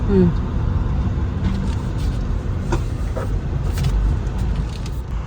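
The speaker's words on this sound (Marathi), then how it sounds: "आज ट्रॅफिक आहे फ्रायडे आहे आणि ऑफिस सुटायचा सुद्धा टाईम झालेला आहे त्यामुळे आता हळूहळू चालली गाडी" A car creeps slowly through heavy Friday evening office-hour traffic, its engine and road rumble steady and close throughout, with faint passing vehicle noise around it.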